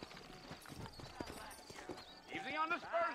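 Horse hooves clip-clop at a steady pace in the Western video game Red Dead Redemption, close and fairly loud, with a person talking over them and a brief whinny-like call near the end.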